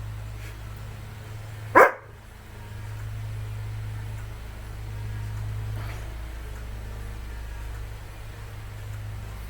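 A single loud dog bark rings out near the start, a brief crying yelp that fades into a quiet room hum and steady low background noise.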